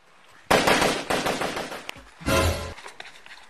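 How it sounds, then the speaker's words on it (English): Gunshots ring out in a comedy skit, a sudden loud burst of rapid repeated shots followed by a second sharp volley, with no talk over them. "Did you hear that gunshot?"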